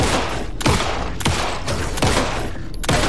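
Rapid gunfire in the video game Alan Wake 2 as shots are fired at wolves, about five loud, sharp blasts spaced roughly half a second apart, each with a short ringing tail.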